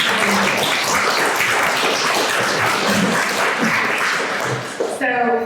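A breakfast audience at a leadership event gives a short, dense round of applause that fills the room, then fades into talk at the end.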